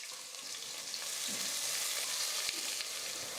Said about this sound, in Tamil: வெங்காயம் இந்த மாதிரி நல்லா பொன்னிறமாக வதங்கி வர வரைக்கும் நம்ம வதக்கணும்